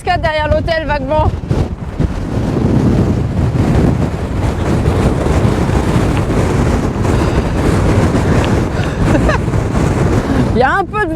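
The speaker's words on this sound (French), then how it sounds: "Il y a un peu de vent, léger, léger." Wind buffets the microphone in a loud, rumbling roar near a waterfall in Torres del Paine, Chile, with brief bits of voice at the start and end.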